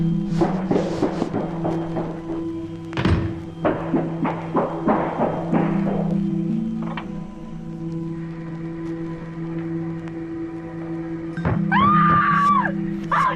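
A woman screams in a recorded audio clip, a series of loud, harsh bursts mixed with thumps and heavy background noise, followed by a steadier hum and a later high wailing cry.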